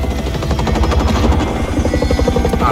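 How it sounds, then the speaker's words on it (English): Helicopter flying in Gears of War 5, a loud continuous rotor thrum and engine roar with rapid chopping pulses, steady and close throughout. "I'm flying in a ghetto chopper"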